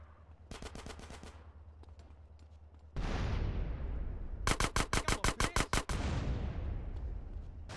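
Rapid automatic gunfire in Grand Theft Auto: San Andreas, two loud bursts of sharp repeated shots, the second denser, followed by a heavy explosion-like roar that fades slowly.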